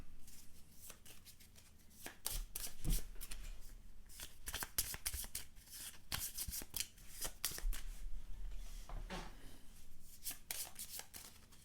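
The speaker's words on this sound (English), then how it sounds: "And then we're going to shuffle all this back in." Crisp riffling bursts of playing cards being shuffled during a Pandemic Legacy: Season 0 board game, several quick riffles and bridges with soft shuffling between, close and clear.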